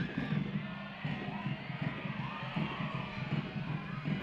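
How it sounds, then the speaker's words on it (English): Stadium crowd at a Northern Super League women's soccer match at Stade Boreal, fans roaring steadily for Montréal Roses FC against Calgary Wild FC, a dense continuous wash of voices with rhythmic chant-like surges throughout. "The crowd cheering on the Roses once again in the attacking third."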